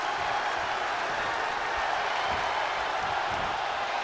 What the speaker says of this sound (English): And Zelina Vega clapping on her client.